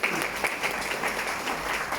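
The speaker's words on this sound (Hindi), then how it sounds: "धन्यवाद सबके लिए, जोरदार ताली होना चाहिए।" An audience bursts into loud, sustained applause, dense overlapping clapping that holds steady for about two seconds with no break.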